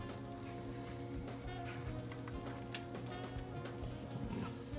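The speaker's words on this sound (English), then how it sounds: "I'm just waiting for that butter to melt." Butter melting in a pan beside about three tablespoons of all-purpose flour gives a steady, soft sizzle, with a low continuous hum running underneath.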